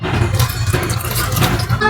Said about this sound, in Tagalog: Konting tubig lang.